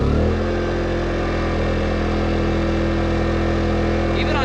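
PowerHorse 2300i inverter generator running at maximum RPM, a steady, loud engine drone with strong low harmonics, continuous and close throughout.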